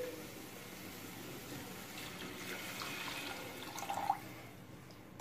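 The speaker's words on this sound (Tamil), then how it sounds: "ஸோ இந்த ஸ்டேஜில் நம்ம இப்போ இதில் தண்ணி ஆட் பண்ணிக்கலாம்." Water being poured into a cooking pot of dhal and rice for a baby meal, a soft steady trickle and splash that builds briefly near the end before tapering off, with no talk over it.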